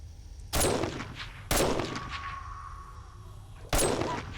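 Three loud gunshots from a 7 Days to Die game, spaced about a second and two seconds apart, each with a sharp crack and a ringing tail.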